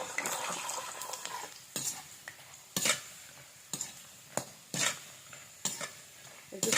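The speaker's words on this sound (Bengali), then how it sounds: "একে একে অল্প অল্প করে পাপড় দেবো আর একটু হাতে দিয়ে নেড়ে নেড়ে তুলে দেবো" Papad frying in hot oil and turned by hand, a continuous crackling sizzle broken by repeated sharp scrapes and knocks against the pan at irregular intervals, close up with no voices.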